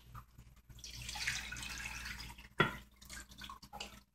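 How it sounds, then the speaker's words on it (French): Large amount of water poured onto pieces of beef in a pot, a close, steady splashing pour lasting a few seconds and ending with a sharp splash, with no talking. "Ensuite, je mets comme ça cette grande quantité d'eau."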